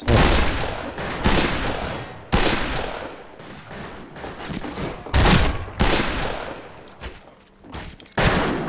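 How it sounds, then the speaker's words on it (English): Repeated gunshots in the Western multiplayer game Fistful of Frags, loud sharp bursts recurring every second or so in irregular clusters, with no talking. "Oh, I just got shot in the back."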